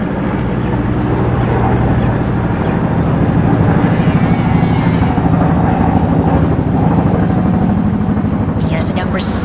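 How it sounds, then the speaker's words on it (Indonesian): A low-flying animated plane crosses over a river, its steady engine drone loud and continuous throughout, with a brief rise in high-pitched hiss near the end. "Pesawat itu terbang sangat rendah di atas sungai."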